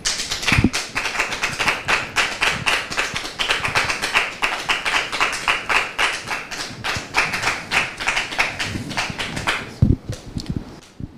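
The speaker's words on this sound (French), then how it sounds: "Sous vos applaudissements, s'il vous plaît." A studio audience claps in welcome for an evening's guest. The applause is dense, rhythmic and sustained for several seconds, then thins near the end with a couple of louder thumps.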